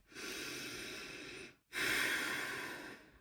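Two long, close breaths, a slow airy inhale followed after a brief pause by a fuller exhale, calm and steady with no speech.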